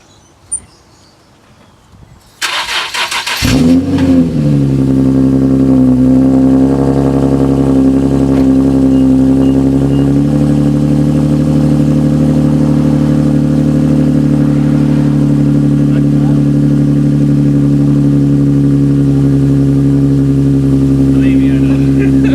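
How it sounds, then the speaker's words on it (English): A Nissan 370Z with a modified exhaust fires up from cold: a couple of faint clicks, a sharp starter crank, then a loud flare settling into a deep, steady, droning idle that holds for the rest of the clip. "let's do the cold start and see how it comes out"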